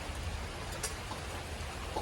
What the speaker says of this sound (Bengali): ওই যে দেখেন বৃষ্টি হইতেছে, আবার বৃষ্টি হয়েছে।